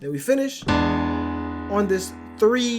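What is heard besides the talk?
No everyday noise stands out behind the speech.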